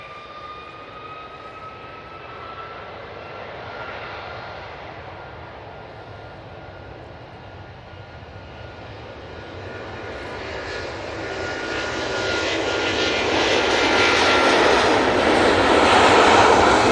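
An Emirates jet airliner at Manchester Airport roars as a broad, steady engine rush that swells louder over the last several seconds as the plane draws nearer, with no talk over it.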